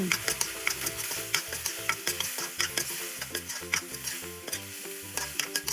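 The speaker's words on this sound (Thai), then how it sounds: "จากนั้นใส่พริกลงไป สุดท้ายตามด้วยต้มหอม ผัดคลุกเคล้าให้เข้ากัน" Minced chicken with baby corn, chilli and spring onion stir-fried in a pan, loud steady sizzle broken by rhythmic, repeated scraping and clacking strokes of the spatula, close up and without talk.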